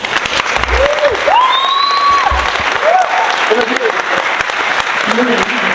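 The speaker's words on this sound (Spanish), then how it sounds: "Démosle un fuerte aplauso." An audience at a book presentation on inequality in Mexico gives sustained applause, a continuous crackle of clapping with a voice and some tonal sounds rising above it.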